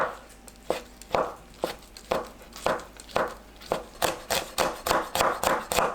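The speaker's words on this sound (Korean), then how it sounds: "건포고버섯도 작은 크기로 썰어 주세요." Dried shiitake mushrooms being chopped into small pieces with a knife on a cutting board: a steady series of sharp chops that speeds up into quicker, closer strokes toward the end, with no talking.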